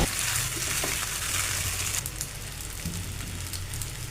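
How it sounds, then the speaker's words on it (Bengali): Boiled pasta being stirred with spices in a hot pan makes a steady, close crackling sizzle with soft scraping movement, continuous and without talk. "এখন পাস্তার চিপসগুলো ভালোভাবে নেড়ে চেড়ে মিশিয়ে নিব"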